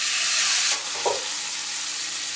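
Tri-tip sizzles in hot oil in a cast iron pan, a steady close hiss that runs the whole time with no talking.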